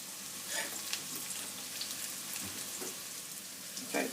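Garlic frying in a pan for a beef bourguignon, a soft steady sizzle with a few light crackles, close and fairly quiet, no voices.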